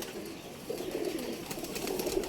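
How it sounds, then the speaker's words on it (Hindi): A Kasuri pigeon gives soft, low, drawn-out coos, close by over a faint steady background hiss, with no talk. "कसूरी कबूतर है ये"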